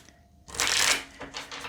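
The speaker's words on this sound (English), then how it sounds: "One more shuffle." A tarot card deck being shuffled, a short riffle of cards burst that swells loud and then tapers into a softer second flutter, close to the microphone with no talking.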